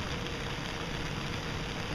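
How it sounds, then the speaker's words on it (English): Light rain patters on an Argon tarp with a pullout, a faint steady hiss of fine drops with no talk. "Still getting a little bit of rain."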